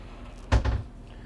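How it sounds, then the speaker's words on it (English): A pocket door in a 2023 Renegade Verona 36VSB RV slides shut with a short, close rumbling knock followed by a second softer thud, with quiet room tone around it. "right here we've got a pocket door to close off the guest area"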